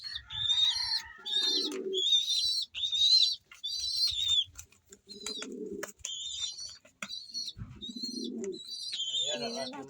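Pigeons kept by a fancier coo in low, repeated phrases while being fed grain mixed with probiotics, with higher whistling bird calls layered on top and a few faint voices in the background.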